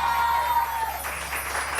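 Studio audience applause on a morning television talk show, a steady wash of clapping heard briefly and alone, fairly close and moderately loud.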